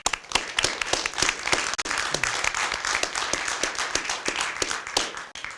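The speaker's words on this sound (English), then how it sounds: "Please let's give him a round of applause." An audience at a city commission meeting gives a sustained round of applause, many hands clapping in a dense, fairly loud patter that carries on for several seconds without talk.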